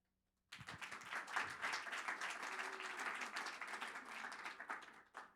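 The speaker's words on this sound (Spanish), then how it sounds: "gracias por los aplausos" Audience applause at an art forum talk in Lima, a quiet, distant wash of clapping that starts abruptly after silence and fades out after about five seconds.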